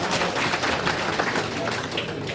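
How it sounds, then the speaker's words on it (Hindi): Applause from a seated audience at an NIPH session, a dense steady patter of many hands clapping at once, sustained and fairly loud throughout with no pauses. "ताली बजाइए एक बार NIPH।"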